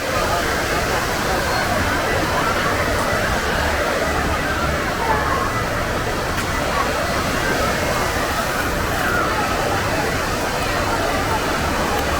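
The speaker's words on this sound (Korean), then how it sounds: "야 파도 온다 파도 온다" Continuous loud rushing water and sloshing surf from a hotel wave pool in Macau fill the space, with a crowd's chatter mixed underneath throughout.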